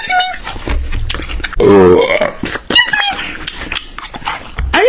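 A loud, drawn-out burp rises amid excited, overlapping voices of several people, close and prominent in the middle of the chatter.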